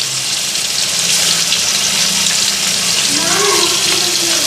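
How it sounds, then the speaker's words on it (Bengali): Chicken frying in a pan with ginger-garlic paste, chili powder, turmeric and salt gives a steady, loud sizzle throughout, with a brief wavering tone rising near the end. "এখন বর্তমান এটার মধ্যে আদা বাটা রসুন বাটা একটু লঙ্কার গুঁড়া হলুদ লবণ দিয়ে ফ্রাই করে নিতেছি"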